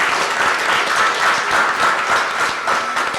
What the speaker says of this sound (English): So I want to give our young people a round of applause this evening.